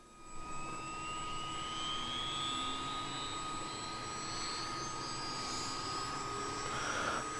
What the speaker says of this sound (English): So I'm gonna fire the starter up for engine 1.